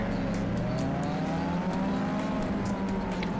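Race car engine in Need for Speed Underground 2, a loud continuous revving drone with rising pitch as it accelerates, steady and close throughout.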